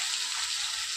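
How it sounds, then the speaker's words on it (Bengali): Potatoes fry in a pan of oil with a steady, bright sizzle, close and even throughout, with no voices. "আলুটা প্রথমে খুব ভালো করে লাল করে ভেজে নেব।"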